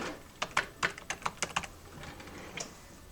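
Quick, light keystrokes patter on a computer keyboard, about a dozen taps in an uneven burst followed by a pause and one final tap, soft and close in a quiet room.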